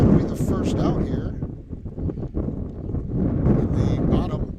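Strong wind buffets an outdoor microphone at a high-school baseball field in Oakfield, Alabama, a broad, continuous rumble that swells and dips, with a voice talking faintly underneath.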